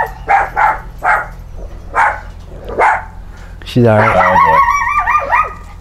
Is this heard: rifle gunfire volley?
no